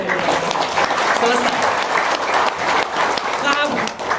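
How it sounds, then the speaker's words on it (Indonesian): An audience at a motivational gathering claps in a loud, dense burst of applause throughout, with voices carrying over and through the clapping. "Kurang semangat tepuk tangannya."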